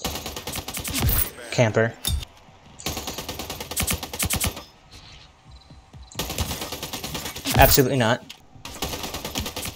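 Rapid-fire weapon bursts in the Splitgate 2 shooter game, loud and close, coming in long dense stretches broken by short pauses, with a player speaking briefly between bursts.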